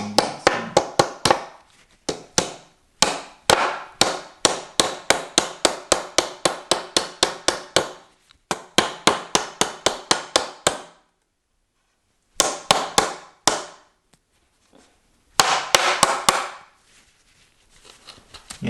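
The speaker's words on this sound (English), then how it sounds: "start hammering these plastic screws into the wood" Plastic screws being hammered into the wood of IKEA ALEX drawers, rapid runs of sharp close taps in bursts separated by brief pauses.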